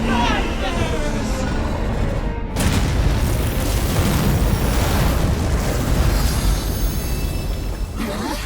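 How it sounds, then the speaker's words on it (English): A deep cannon blast from a flying ship's cannon in the video game Granblue Fantasy Relink rumbles loud and sustained for several seconds, with voices and game effects layered around it. "It's Excavaliant's cannon!"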